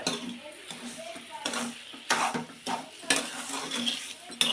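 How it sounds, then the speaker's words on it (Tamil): Rava batter with sugar being stirred in a pan, a spoon scraping and clinking against the metal in repeated strokes, fairly close and moderately loud, with short pauses between bursts. "இப்போ வந்து சர்க்கரையை போடு ஜீனி போட்டுடலாம் இதையும் நல்லா கிளறிடுவோம்"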